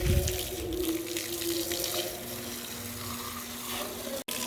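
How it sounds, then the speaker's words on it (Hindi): Tap water running steadily while plants are watered at home, a continuous close hiss of flowing water with a faint hum underneath, broken by a brief dropout near the end. "अब मैं पौधों को पानी लगाऊँ"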